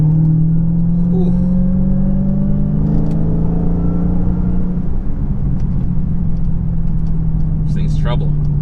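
A 707-horsepower Dodge Charger Hellcat with a supercharged 6.2-litre V8 revs up steadily, the engine tone climbing with a faint supercharger whine over a constant rumble.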